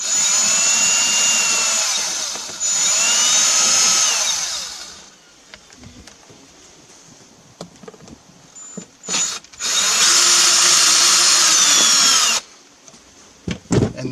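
Power drill driving out panel screws on a Harbor Freight Predator 3500 generator, with several loud whirring runs whose pitch rises and falls, broken by quieter gaps and faint clicks, and no talk.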